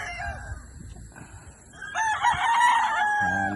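A yellow-legged hatch gamecock rooster from a gamefarm crows loud and close, one drawn-out call rising over a bed of low ambient noise and faint background talk.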